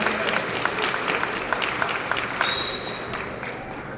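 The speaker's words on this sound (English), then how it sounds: "Give him a round of applause as he come up." Applause from an audience at a history program as a former Cincinnati police assistant chief comes up, a steady, dense patter of clapping filling the room throughout, with faint voices underneath.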